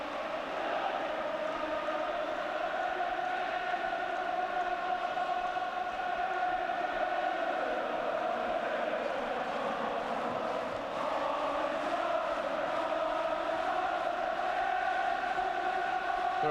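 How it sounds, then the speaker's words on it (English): A large football stadium crowd at a 1981 England versus Scotland match roars in a steady, continuous wall of sound, holding loud and even throughout with no clear speech over it. "And the crowd rising to a crescendo now."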